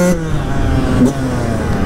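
Yamaha YZ 125 two-stroke motorcycle engine running close and loud with a steady drone, a brief pitch step near the middle as a gear engages.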